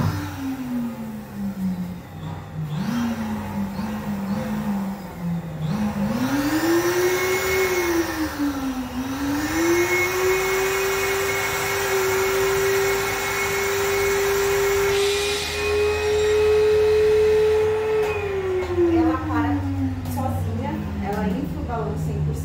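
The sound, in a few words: Super Stuffer balloon stuffing machine running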